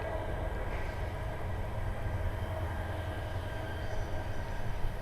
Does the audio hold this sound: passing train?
yes